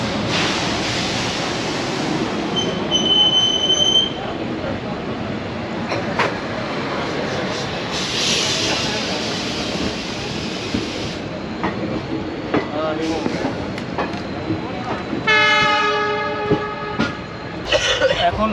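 A Secunderabad–Rajkot superfast express rumbles along steadily as heard from aboard, with wheel noise and brief whistle-like horn tones early on, and a louder rhythmic burst near the end.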